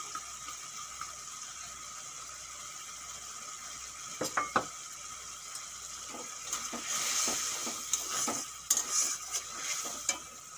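A spice paste of yogurt, coriander, cumin, Kashmiri chilli powder, salt and turmeric fries in oil in a pan, with a steady soft sizzle under scattered scraping and stirring clicks from a utensil.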